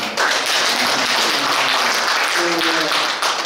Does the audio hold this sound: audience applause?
yes